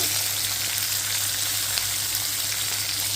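Green chillies fry in hot oil in a pan, a close, steady hiss of sizzling that holds evenly throughout.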